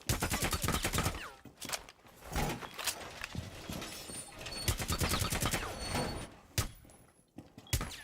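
Suppressed gunfire from a video game rattles in rapid bursts of muffled shots, close and loud, with short pauses between strings of fire.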